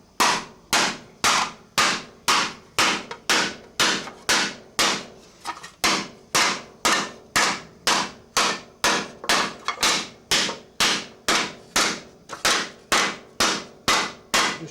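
A mallet hammering an aluminium motorcycle petrol tank in a metalworking shop, a fast, steady run of loud, sharp metallic blows, about two per second, continuing without pause and with no talk.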